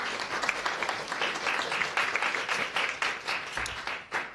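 An audience at the PCT Honors 2023 event claps steadily in a dense, even wash of applause lasting several seconds, then tapers off.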